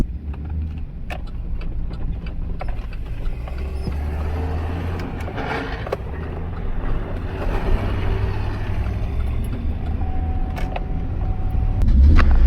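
An old Ford F350 pickup being revived drives down a street, its engine a steady low rumble with road and wind noise that grows louder toward the end.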